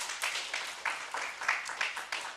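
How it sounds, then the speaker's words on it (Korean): Parents clap for children who have just sung at an evening church revival service, a steady wash of applause from a crowd with several sharper bursts standing out, continuing for the whole stretch. "부모님 박수 한번 쳐줍니다"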